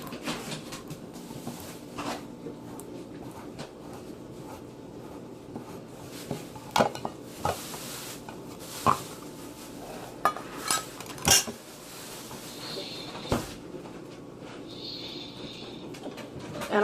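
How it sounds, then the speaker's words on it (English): A handheld can opener works open a can of corn and peppers in a home kitchen, with scattered sharp metallic clicks and clinks, close and fairly quiet, and no talking. "I'm going to take my can opener and I'm going to open it."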